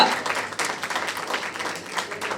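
An audience claps loudly and steadily at a film press meet, a dense ongoing applause from a crowded room with some voices mixed in.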